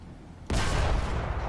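A single heavy tank gun blast in War Thunder from a multi-turret tank, a sudden loud boom that rolls on as a sustained rumble; no talk.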